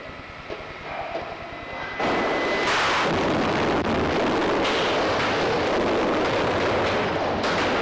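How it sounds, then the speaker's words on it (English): A large film stunt explosion staged for the James Bond film Never Say Never Again, erupting suddenly into a loud, sustained roaring blast and rumble that fills the whole scene and carries on without letting up. "And with 4 cameras rolling so as not to miss any of the action, the explosion finally takes place."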